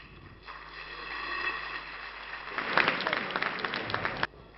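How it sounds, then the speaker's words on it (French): An audience applauds at a public reading, a dense rising patter of clapping that swells for about two seconds and then cuts off abruptly, heard over a low hum. "pour laisser le public finir d'applaudir"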